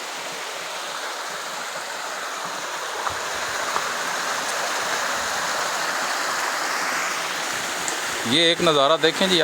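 Natural waterfall at Dohrian, Pakistan, roaring as a steady broadband rush of falling water close by, with someone speaking briefly over it near the end.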